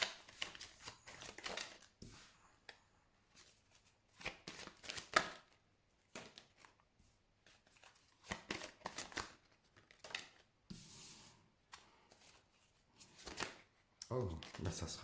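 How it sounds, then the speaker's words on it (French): Tarot cards are shuffled and drawn for a reading, heard as close bursts of riffling and flicking with quiet gaps between them. A person speaks softly at times between the card sounds. "Voilà, je vais tirer 9 cartes."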